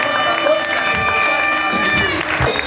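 A church congregation at a wedding ceremony cheers and acclaims loudly as a crowd, a dense wash of voices and shouts close by, mixed with speech.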